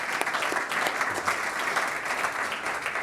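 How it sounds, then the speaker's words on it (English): Warm applause from a medtech summit audience welcomes a speaker to the stage, dense, close clapping that stays lively and even for the whole short stretch. "let's give Bernd a warm welcome and a round of applause"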